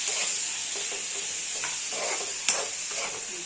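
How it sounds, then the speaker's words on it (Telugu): Tomatoes for a mango-ginger tomato chutney sizzle in hot oil, a steady bright frying hiss throughout with a few soft stirring scrapes and one sharper clack near the end, close and unbroken by talk. "టమాటాలు కూడా మగ్గనేద్దాం"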